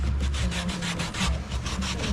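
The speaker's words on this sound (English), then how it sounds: "we are gonna wipe that seal" Rag wiping silicone onto the window seal of a GMC Sierra or Silverado truck door, a close rhythmic back-and-forth rubbing with repeated strokes and a low steady hum underneath.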